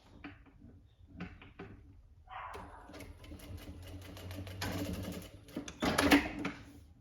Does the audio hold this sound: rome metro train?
no